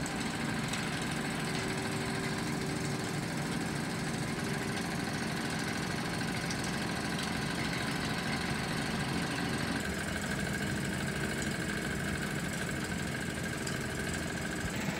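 Three Wilesco model steam engines running together, one of them without a regulator, make a continuous busy mechanical chugging and whirring hum with rattling vibration, steady and moderately close throughout with no talking.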